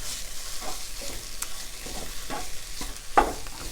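Soybean chilli frying in a pan as soy sauce is stirred in, with a soft continuous sizzle under scattered scraping spoon strokes and one sharper clack near the end, heard up close without speech.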